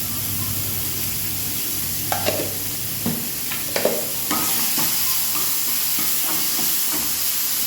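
Tomatoes cook in coconut oil in a pan over a medium gas flame, a continuous close sizzle and hiss with several clattering stirs and scrapes of a utensil partway through.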